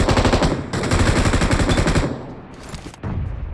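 A machine gun in a video game sprays a long burst of bullets, loud rapid rattling fire that stops briefly, then resumes close and alone.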